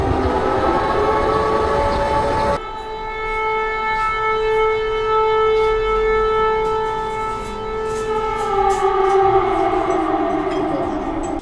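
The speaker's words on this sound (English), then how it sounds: "We have been hearing air raid sirens" An air raid siren wails steadily in Kursk, its sustained rising and falling tones carrying loud over a rumbling background for the whole stretch, with no one speaking.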